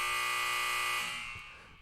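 An electronic buzzer sounds as a loud, steady, harsh tone for about a second, then cuts off and its echo fades into quiet.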